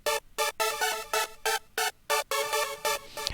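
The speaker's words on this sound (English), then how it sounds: "the supersaw line, which normally sounds like this" A supersaw synth line from an electronic pop production, bright and buzzy stacked chords played in short rhythmic stabs with brief gaps between them, alone and upfront.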